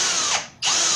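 A power drill with a bit bores into melamine board, whining loudly, briefly dipping as the bit slows under load, then surging back to full speed within about a second.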